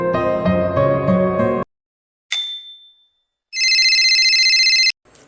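A phone rings with an incoming call, a short electronic ringtone burst after a stretch of music, then a sustained bright ringing tone lasting over a second, fairly loud and close, with no talk over it.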